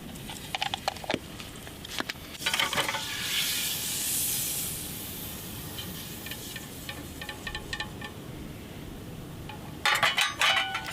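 A mackerel fillet sizzling in butter in a hot pan, the hiss swelling loud then settling to a steady close fry, with clatters of handling at the start and end.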